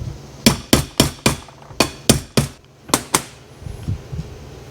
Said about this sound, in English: you're gonna come up and hit it with a hammer.